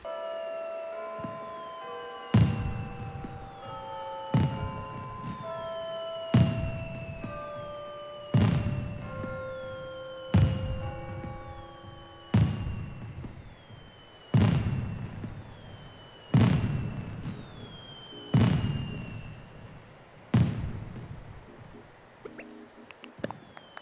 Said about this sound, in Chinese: 那我来放一下我家烟火秀的片段给大家看一下